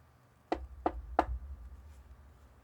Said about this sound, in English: hears a knock at the door